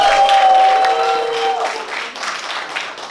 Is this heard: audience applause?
yes